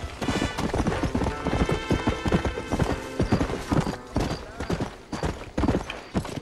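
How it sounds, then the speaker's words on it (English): Horse hooves clip-clop at a steady trotting rhythm in the video game Red Dead Redemption, close and clear, with a brief whinny-like snort and faint game sound underneath. "Ah, the horse won't go up."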